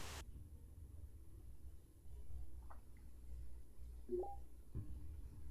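A video phone dialing in the game Enemy Zero: a few short electronic tones near the end, faint over a low steady hum and quiet background.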